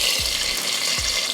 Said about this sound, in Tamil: இப்போ சாம்பார் தாளித்து விட்டுறலாம்.